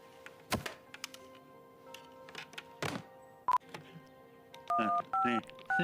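Touch-tone telephone dialing in a cartoon scene, several thunks and clicks giving way to a quick run of about four loud, evenly spaced keypad tones near the end, with background sounds throughout.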